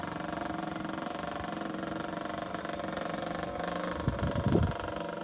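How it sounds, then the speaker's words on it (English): A motorbike crosses a bridge over the River Nene at Wigston's Bridge, a steady mid-pitched engine drone throughout that swells briefly louder near the end. "Motorbike on the bridge"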